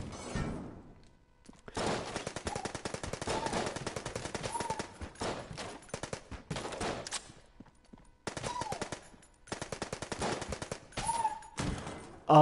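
Rapid gunfire from a weapon that never needs reloading in the bullet-hell video game Enter the Gungeon, heard as long loud bursts of fast rattling shots broken by short pauses, with no talk.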